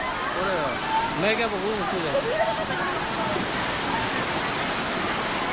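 Fast-flowing floodwater rushes through a street in Nahargarh ward 57, a steady loud broadband roar of water throughout, with a voice talking over it.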